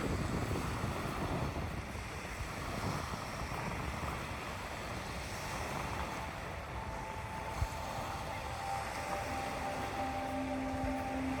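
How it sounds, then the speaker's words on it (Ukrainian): Ocean waves wash continuously onto the shore at Kitsilano, Vancouver, with a soft, steady rush, mixed with wind noise. No voices, just the ambient surf. "просто послухати звук моря"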